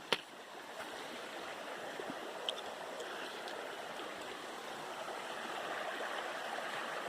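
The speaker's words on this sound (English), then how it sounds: "show you a beautiful stream" A broad, steady rush of a large stream on the Appalachian Trail in Vermont fills the scene, with a soft click near the start and no voices.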